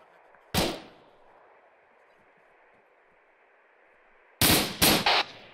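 Distant gunfire from an A-10 gun run in the video game ARMA 3: one short ripping burst, a long rumbling tail, then a second cluster of heavy bursts near the end, with radio chatter in the background.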